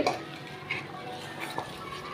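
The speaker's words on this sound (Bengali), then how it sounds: "আমি এখন মাছের মাথাগুলো কষিয়ে নিব ভালো করে" Fish heads sautéing in spice paste, a dense close sizzle with occasional scraping stirs and utensil clinks against the pot.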